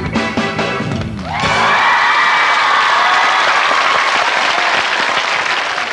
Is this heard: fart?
no